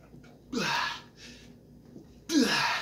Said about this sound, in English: I felt a sneeze coming on.